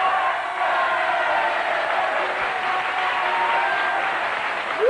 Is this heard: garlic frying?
no